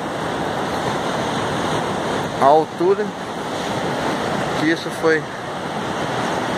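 Sea waves break steadily against a barrier on the flooded seafront of Itapoá, Santa Catarina, a continuous loud roar of surf with wind buffeting the microphone, while someone talks briefly over it.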